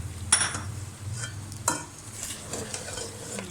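Spice masala for chicken nihari fries in oil with a soft, steady sizzle. A few sharp scrapes and clinks come from stirring in the pan, and nobody speaks.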